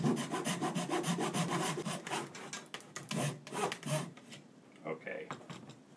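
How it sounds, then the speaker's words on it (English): A handsaw test-cuts wood without clamping in a miter box while building a tenor guitar, producing close, rapid back-and-forth rasping strokes that slow and break into scattered scrapes toward the end. "I'm not clamping this into the miter box or anything right now. But I just want to see how deep this is going to cut."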